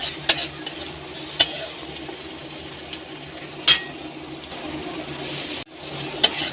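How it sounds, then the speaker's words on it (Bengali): Maggi noodles with an egg stirred in a pan over a high gas flame, a soft continuous sizzle broken by a few sharp metallic clinks of the spoon against the pan. "এটা আমি ভালো করে নেড়ে নেব"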